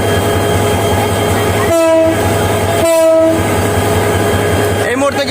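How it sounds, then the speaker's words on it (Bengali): A packed commuter train pulls into Sreepur railway station in Gazipur. It gives two loud horn blasts over a continuous heavy rumble, and faint voices come through in the background. "শ্রীপুর রেল স্টেশনে আরও একটি ট্রেন প্রবেশ করছে কমিউটার ট্রেনটি আপনাদের আসলে দেখাতে চেষ্টা করছি"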